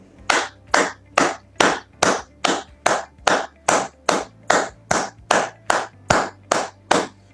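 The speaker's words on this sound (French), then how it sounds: "je vous prie de bien vouloir acclamer nos leaders qui ont tracé la sphère dans laquelle nous pouvons parler" An audience at a French-language lecture claps in unison, about fifteen sharp, evenly spaced loud claps in a steady rhythm, with no voices over it.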